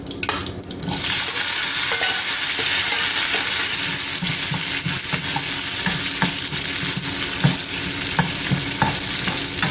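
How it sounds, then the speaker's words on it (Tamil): Mustard seeds, onion and curry leaves fry in hot oil with a loud, steady, crackling sizzle, and spoon-stirring scrapes sound through it from start to finish. "கடுகு நல்லா பொறிஞ்சிருச்சு இந்த வெங்காயமும் கருவேப்பிலையும் போட்டுக்கோங்க"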